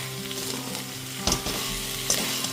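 Kachki fish chorchori sizzling as it is stirred in mustard oil, with a steady frying hiss and two sharper scrapes of a spatula against the pan, close and alone.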